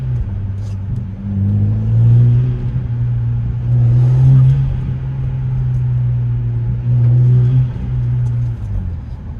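A BMW E90 engine idles steadily up close, a strong low hum with slight swells in loudness and no talk over it.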